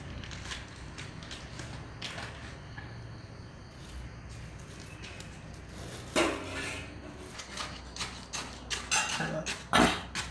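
Milk frozen solid is mashed and crushed in a bowl for a poha milkshake, giving scattered clinks and scraping knocks of a utensil against the bowl that grow louder and more frequent toward the end.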